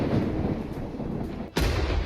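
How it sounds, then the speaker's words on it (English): A dense rumbling roar gives way to a sudden sharp blast near the end, loud and close, with no voices. "A blinding explosion tore through the air, sending shockwaves blistering through the streets"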